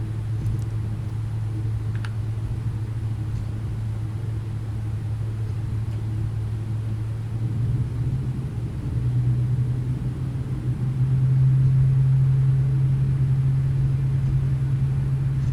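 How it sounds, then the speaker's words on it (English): Boeing 777 taxiing out toward the runway in a flight simulator game, a steady low engine rumble that swells and rises in pitch toward the end, with no talk over it. "So right now we're just taxiing out to runway 25 center for departure"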